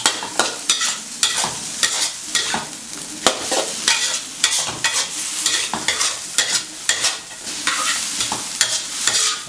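Bitter melon and egg stir-fried together in a pan, with a steady broadband sizzle punctuated by frequent sharp scraping strokes of the spatula in an irregular rhythm, close and fairly loud, no talking.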